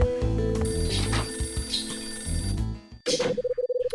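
A telephone in the Last Window video game rings in a quick, rhythmic burst of trilling pulses near the end, after a stretch of game music.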